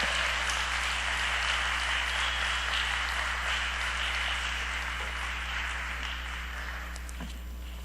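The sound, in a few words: applause welcoming the pastor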